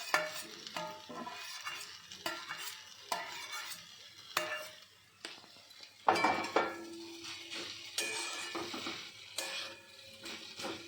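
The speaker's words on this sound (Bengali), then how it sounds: "আলুটা দিয়ে ভালো করে মিক্স করে নেব।" Boiled potato being worked by hand or spoon into a spiced fish cutlet mixture, giving soft irregular squelching and stirring with occasional clinks against the bowl, close and moderate in volume, with no voices.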